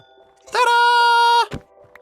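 A single Minecraft goat lets out one loud, sustained, nasal bleat lasting nearly a second, followed by a short soft thump, with a quiet background.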